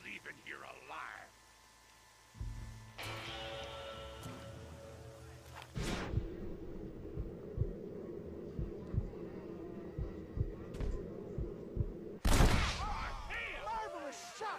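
Gunfire in the Western video game Red Dead Redemption, several sharp shots spaced out over a low rumbling backdrop, with a few louder bangs near the end and a burst of game noise.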